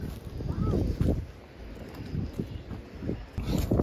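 Gusty wind buffets the microphone in low rumbling bursts, rising and falling over a few seconds, outdoors as snow begins to fall.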